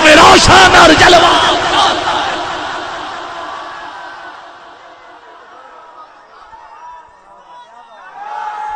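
A large gathering at a religious gathering in Capri Colony chants together loudly, a dense roaring mass of voices that swells at first, fades gradually, then rises again at the end.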